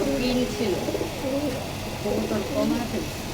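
Pigeons coo in low, rolling phrases on a rooftop animal and bird farm against steady background hum, with a voice talking faintly under the calls.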